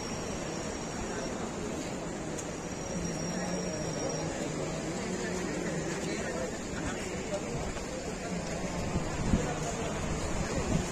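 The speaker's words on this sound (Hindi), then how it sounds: "गर्म कुंड में देख लो हम पर गर्म पानी गिर रहा है" Hot spring water pours down steadily at the Gaurikund hot pool on the Kedarnath route, with rain falling overhead, a dense continuous rushing splash close by that holds level throughout with no voices.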